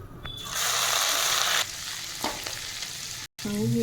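Garlic fries in oil for churmura chivda while being stirred continuously. A loud, close sizzle hisses with scraping stirs, then drops out briefly near the end before resuming.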